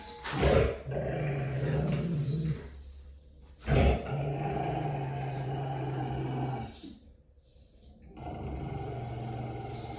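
A dog growls low and steadily while resource guarding its food bowl inside a crate, a sustained rumbling snarl broken by a few sharp louder bursts, close and with no talking.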